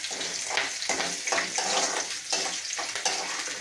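Green chillies fry in a pan for Nuggekai Soppu Palya, giving a steady close sizzle with rhythmic scraping pulses from stirring and no talk.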